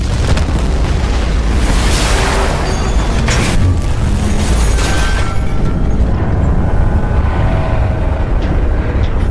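A ship exploding in the video game Battlefield 4: a loud, sustained roar of explosions with deep booming rumble and crackling debris, gradually fading into a low rumble.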